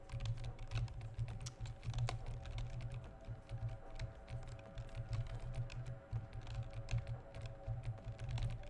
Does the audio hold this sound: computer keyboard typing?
yes